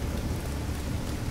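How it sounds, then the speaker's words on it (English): A heavy thunderstorm in The Division 2 pours down as a dense, constant hiss of rain under a low rumbling bed, steady and enveloping with no distinct thunderclap or voice. "Oh my god, the storm is getting big though."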